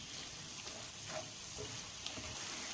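Tomatoes with rock salt sautéing in a pan for a spicy mushroom masala, giving a steady, close sizzle and frying hiss throughout with a few faint stirring scrapes.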